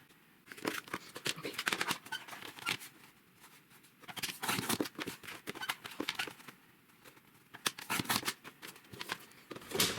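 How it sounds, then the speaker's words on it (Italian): Paper is cut with scissors for a junk journal cover, giving bursts of crisp snipping and rustling in irregular clusters separated by short pauses, close and fairly quiet, with no talk. "Adesso vado a tagliare qui"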